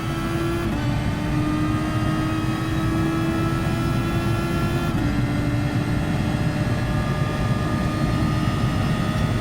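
A video game race car engine runs flat out in a sim racing session, a loud continuous whine that climbs in pitch, with one brief dip partway through where it shifts.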